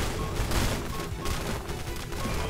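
Rapid gunfire from a skill being fired in Nomad Survival, a dense, continuous stream of crackling shots with booming hits throughout, loud and alone.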